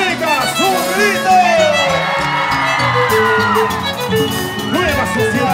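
A crowd of girls shouts, whoops and cheers together at a lively Andean folk dance performance, with overlapping high yells rising and falling over loud background music.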